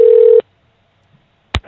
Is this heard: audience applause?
no